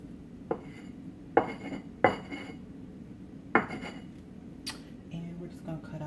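A clean drinking glass handled in a home kitchen while making buttermilk biscuits, giving several sharp glassy clinks and knocks spaced irregularly, close and fairly clear over a quiet background.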